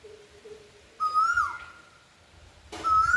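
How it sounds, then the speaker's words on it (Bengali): A koel, a type of cuckoo, calls loudly twice on a rainy morning, each time with a clear rising whistled note close by, over a soft background hiss. "কোকিল দেখে আবার ভ্যাং চালে ওরা আরো জোরে জোরে ডাকে।"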